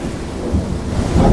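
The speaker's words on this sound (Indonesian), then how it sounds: "Hujan lebat pun turun disertai dengan petir yang menggelegar." Heavy rain pours steadily while deep thunder rumbles and swells underneath, a loud, dense storm wash with no talking.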